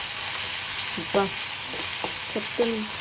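Ginger frying in hot oil for a bitter gourd fry makes a steady, loud sizzle throughout, with a few brief utensil scrapes and clinks over it.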